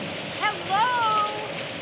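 Rain falls in the dark at night in the 1980 horror film Friday the 13th, a steady hiss with a couple of faint, brief tonal cries rising over it midway.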